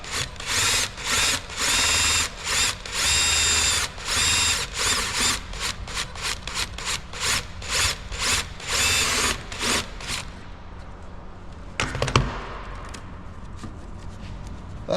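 A power drill with a hole saw bit cuts through a washer in a series of steady, loud bursts with short stops between them. The whine then cuts out, followed by a sharp clatter near the end.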